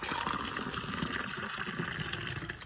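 Water trickles slowly from a small 250 ml measuring cup onto a potted petunia set in cinder medium, a steady close wash of pouring and soaking that holds evenly throughout, with no voices.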